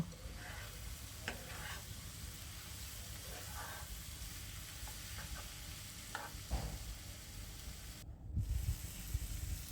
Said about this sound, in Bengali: মাছগুলো দিয়ে একটু রান্না করব